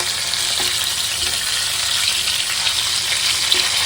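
Katla fish sizzles and fries in a pan in a home kitchen, a loud, constant hiss of hot oil with faint occasional scraping and stirring.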